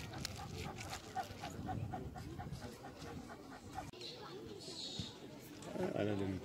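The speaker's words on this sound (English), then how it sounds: "there are dogs everywhere" Dogs pant, whimper and yip close by at a lake during a family picnic, fairly faint, with people talking over them throughout.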